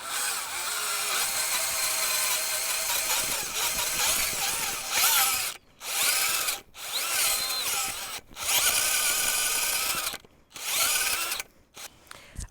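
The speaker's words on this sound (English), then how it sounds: "I have attached it to my 20-volt drill" An auger bit on a 20-volt cordless drill bores into sandy topsoil with a loud, gritty whirring grind, broken by several short pauses as the trigger releases and the bit restarts.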